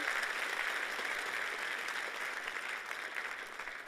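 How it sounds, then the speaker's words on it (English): An audience at a conference applauds the panelists with sustained, even clapping that fills the room, steady for several seconds before easing slightly toward the end. "Can we give a round of applause again for our wonderful panelists?"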